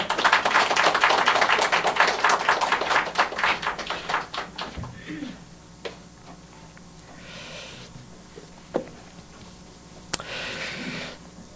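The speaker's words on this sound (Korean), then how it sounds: "박수 한번 해주세요" Church congregation applause, a loud burst of many hands clapping together that tapers off after about four seconds, leaving a quiet room with scattered faint taps.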